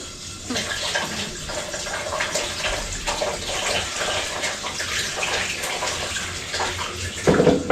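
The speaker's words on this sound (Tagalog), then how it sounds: "Gusto ko kasi maghugas ng kamay para magkamay ako ha." Tap water running steadily into a basin while someone washes their hands, a continuous gushing splash with small shifts in flow and a brief clatter near the end.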